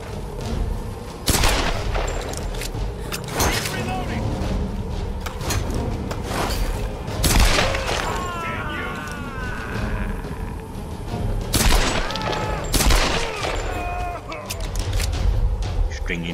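Repeated gunfire in Tomb Raider (2013), sharp shots and bursts landing headshots, loud and close over a busy game soundscape with music and effects throughout.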